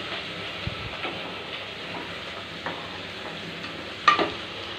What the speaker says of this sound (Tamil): மல்லி புதினா போடுறோம். அதையும் ஒரு அளவுக்கு நல்லா வதக்கிடுங்க.